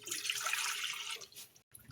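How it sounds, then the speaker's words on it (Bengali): Water pours steadily into a wok on a lit gas stove for over a second, a broad splashing rush that fades out into a brief silence, with faint kitchen sounds after. "এবার এই কড়ার মধ্যে জল"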